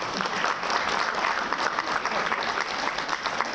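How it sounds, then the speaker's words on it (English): Audience applause at a book cover release event for a geotechnical engineering book, a dense steady clapping wash from a crowd lasting throughout at an even level. "I think now you need to give a big applause to it."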